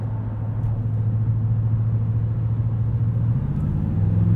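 A supercharged 2015 Toyota Tundra TRD Pro with a TRD exhaust and knobby KO2 off-road tires runs with a steady, deep low rumble, a continuous engine drone heard from close by with no speech.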